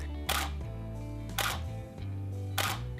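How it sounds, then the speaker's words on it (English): Three crisp Canon EOS 6D camera shutter clicks in normal mode, about a second apart, over a low steady hum in the background. "Even normal shutter is not exceptionally loud."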